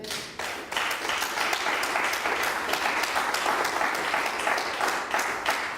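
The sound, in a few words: congregation applauding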